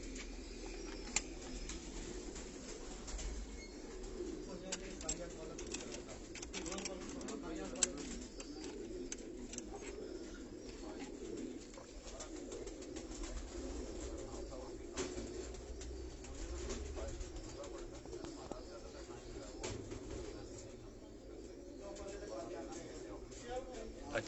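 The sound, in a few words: pigeons cooing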